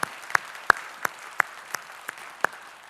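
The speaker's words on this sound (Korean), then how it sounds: "우리 찬양을 받으실 주님께 영광의 박수 올리겠습니다" Sparse, evenly spaced handclaps from a church congregation during a Sunday worship service, about seven crisp claps over three seconds, fairly quiet and heard alone.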